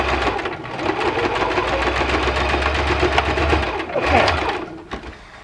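A sewing machine runs fast and continuously up close while stitching a fabric zippered box pouch, its rhythmic motor whir briefly slowing near the end before picking up again.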